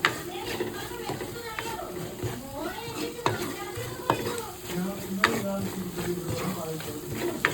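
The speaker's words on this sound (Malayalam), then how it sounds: "ഈ മസാലയുടെയൊക്കെ പച്ചമണം മാറുന്നത് വരെ നമ്മളിത് നന്നായിട്ട് മിക്സ് ചെയ്ത് കൊടുക്കണം" Masala being stirred in a frying pan for fish curry, a soft sizzle under repeated scraping and clinking of the spoon, with a person talking over it.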